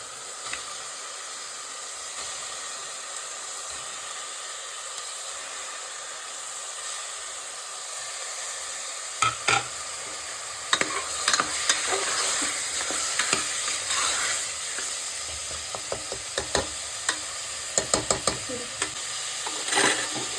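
Mutton liver fries in oil with masala paste in a pan, a continuous close hiss at first, then sharper crackles and spatters take over partway through as the frying intensifies, with no talking.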